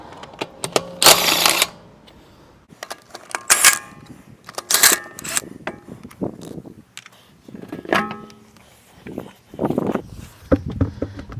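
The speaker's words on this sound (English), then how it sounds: "I'm going to remove these lug nuts and then" An impact wrench fitted with a 19 mm socket spins lug nuts off a wheel of a 2014 AWD 3.6-litre Dodge Journey, giving several short, sharp rattling bursts separated by brief pauses, close to the listener.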